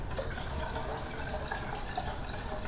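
Broth poured into a pot of lentils makes a steady, close splashing and trickling wash of liquid that runs unbroken for a few seconds.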